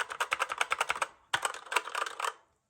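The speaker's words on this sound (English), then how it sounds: "is a mechanical keyboard, RGB with brown switches. Not super loud, definitely not clicky." Typing on a RedDragon S117 full-size mechanical RGB keyboard with brown switches: rapid, soft tactile key clacks in two quick bursts separated by a short pause, close and fairly quiet.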